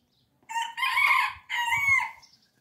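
A chicken's two sharp, squawking calls in quick succession, near and fairly loud, with quiet background between them.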